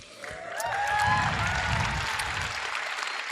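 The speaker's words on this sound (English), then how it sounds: "A smattering of polite applause for lethal injection." A live theater audience gives a smattering of polite applause, scattered clapping that swells for a moment and then thins out, with brief voices and laughter over it.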